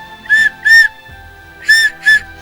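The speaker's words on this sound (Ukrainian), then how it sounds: "Та й звуки в усіх цих свистульках дуже схожі." Four clear, piercing whistle notes from a clay folk whistle, played in two pairs with a short pause between, bright and close.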